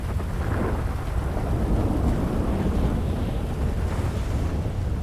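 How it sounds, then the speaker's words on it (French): A game thunderstorm roars steadily, with heavy rain and wind rumbling loud and unbroken throughout, and no voices. "C'est un enfer, cette tempête."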